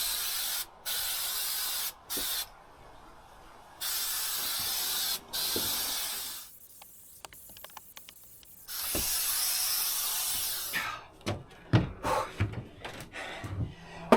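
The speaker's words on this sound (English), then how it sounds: "spray both surfaces and then let it sit for a few minutes to let it get tackier" Spray adhesive hisses from an aerosol can onto camper roof surfaces in repeated bursts, with short pauses between sprays and some clicks and handling noises toward the end.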